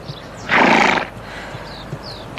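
A wild horse gives one loud, close whinny lasting about half a second, rising over a quiet outdoor background with a few faint scattered sounds afterward.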